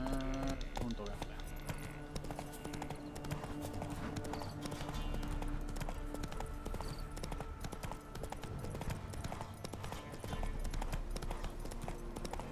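Horse hooves beat a fast, continuous clip-clop in The Witcher 3 as the horse gallops. They sound dense and driving, mixed with other busy game sounds throughout.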